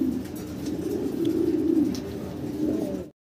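Low, continuous cooing of pigeons fills the space, soft and throaty, with faint chirps and rustles in the background.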